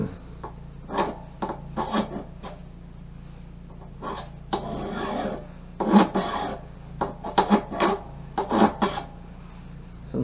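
Steel file rasping along the bevel of an axe blade damaged by a rock strike, in repeated close strokes of varying length separated by short pauses, with a low steady hum underneath.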